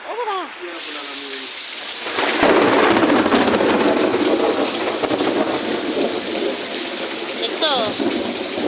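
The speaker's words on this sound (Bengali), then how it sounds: "আপনারা শুনতে পেয়েছেন মেঘের গর্জন কিভাবে মেঘ ডাকছে আর বিজলি চমকাচ্ছে" A heavy downpour with thunder: loud, steady, dense rain hiss sets in after a couple of seconds and continues with low rumbling underneath. Voices speak briefly at the start and again near the end.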